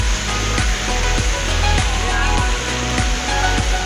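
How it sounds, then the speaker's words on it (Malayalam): Strong rushing water at Anjuzhi Waterfalls roars loud and continuous up close, a dense unbroken wash of flowing water with faint periodic thumps underneath and no talk. "അമ്പലത്തിൽ നിന്ന് ഭയങ്കര ഒഴുക്കെന്ന് പറഞ്ഞാൽ ഭയങ്കര ഒഴുക്കാണ്."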